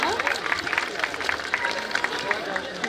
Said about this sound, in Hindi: एक बार जोरदार तालियां हो प्रशांत जी आपके बीच, आपकी तालियां जोरदार हो